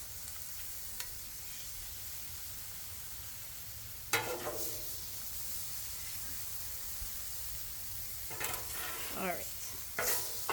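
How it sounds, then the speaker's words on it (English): Taco meat sizzling on a Blackstone griddle, a steady broad hiss throughout with bursts of spatter, under a few brief moments of talk near the middle and end. "we're just gonna go ahead and sprinkle our taco meat on these"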